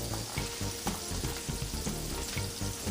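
Carrots fry in a hot pan with a steady, close sizzle, small pops and crackles breaking through the continuous hiss.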